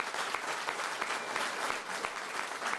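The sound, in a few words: applause at a press conference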